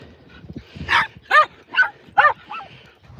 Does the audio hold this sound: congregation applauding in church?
no